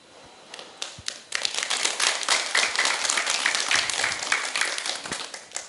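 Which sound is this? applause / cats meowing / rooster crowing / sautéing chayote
applause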